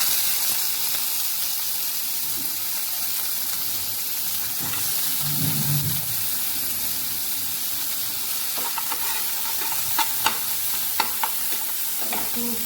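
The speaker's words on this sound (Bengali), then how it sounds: "তো এবার এগুলো এর মধ্যে একটু ভাজবো।" Soaked cashews, raisins, almonds and walnuts fry in a little oil with a constant soft sizzle, while spoon scrapes and clinks against the pan grow busier toward the end.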